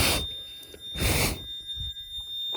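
An Alarmtronic Series 1000 fire alarm sounds in loud repeated bursts about a second apart over a steady high electronic tone, close and alone.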